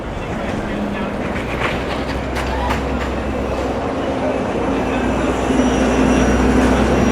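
A New York subway train rumbling through the 1-2-3 line station at 14th Street on 7th Avenue, a loud continuous low roar with faint metallic squeals, growing slightly louder toward the end, with a voice talking over it.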